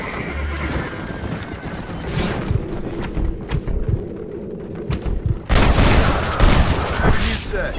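Gunshots at a shooting competition in Red Dead Redemption ring out as a quick string of sharp cracks, then a louder burst follows, with horses neighing and hooves clopping nearby.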